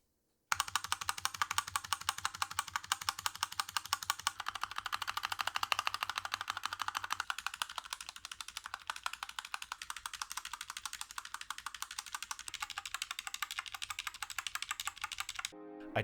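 Typing on a Royal Kludge RK919 keyboard fitted with Huano Red linear switches, a dense, steady stream of close keystrokes clacking rapidly and evenly for the whole stretch after a brief silent start.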